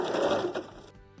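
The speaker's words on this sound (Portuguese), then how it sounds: "Vou costurar na lateral." A sewing machine runs a short burst stitching a side seam on fabric for a Christmas panel, a close whirring motor with rapid needle clatter that stops abruptly near the end.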